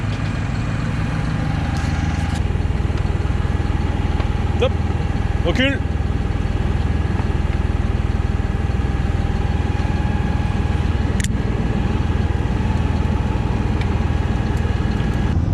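A tractor engine idles steadily in a vineyard while a machine is hitched behind it. The low, constant rumble is close and continuous, with brief clanks and a short voice over it.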